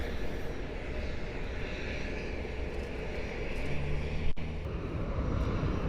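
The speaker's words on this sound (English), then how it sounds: "We got a Southwest inbound." A Southwest airliner arriving at Cleveland airport sends out a steady engine roar and low rumble, which swells slightly toward the end, with a sharp brief click near the close and no one talking.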